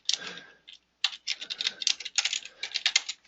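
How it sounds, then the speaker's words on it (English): Rapid bursts of key clicks from a computer keyboard during an environmental inspection of a fuel fill port, typed in quick irregular runs with brief pauses, close and fairly quiet. "what I'm doing here is typing on the keyboard here because I'm not running on a tablet"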